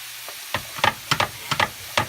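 Vegetarian lasagna filling mixture being stirred by hand for a gluten-free dish, giving a series of close, moist scraping and squelching strokes in an uneven rhythm with a faint sizzle underneath.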